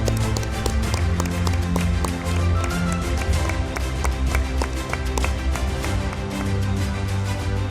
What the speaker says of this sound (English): A round of applause for all the degree holders